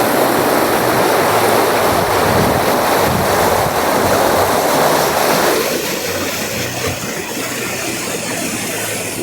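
Fast-flowing river water rushing beneath a bridge at a fairground, a loud continuous roar mixed with wind buffeting, with no pause in the flow.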